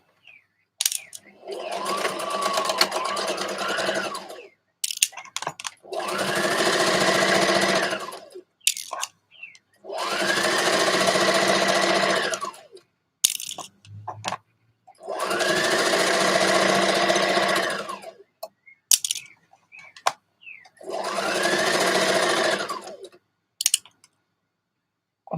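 A sewing machine stitches a dress sleeve seam in five steady bursts of close, loud whirring, each a few seconds long, with short pauses and small handling clicks between runs.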